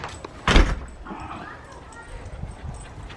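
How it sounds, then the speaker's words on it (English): Excited dogs in a yard give a sharp bark and a few soft whimpers, close by, with a thump near the start and light talking in the background. "Happy dogs."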